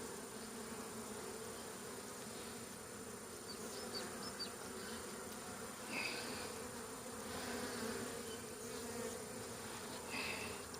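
Honeybees buzz steadily throughout a spring hive colony inspection, a dense continuous drone close by with a few louder passes as bees fly near, heard alone without talk.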